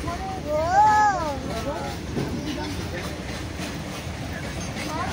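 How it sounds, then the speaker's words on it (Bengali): A train running along a rural route between Cuttack and Kapilash, heard as a steady broad rumble from nearby, with a voice calling out briefly at the start. "train train train"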